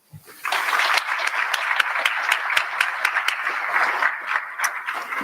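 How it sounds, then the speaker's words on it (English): An audience applauds students at a high school event, a sudden swell of many clapping hands that holds steady and full, with a few sharper individual claps standing out. "let's give you all a round of applause"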